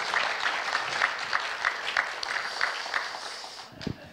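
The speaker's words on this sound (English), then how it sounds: "Let's give Colin a round of applause," A church congregation at Testwood Baptist Church gives a fairly faint, steady round of applause, with a few distinct claps standing out and no talk over it.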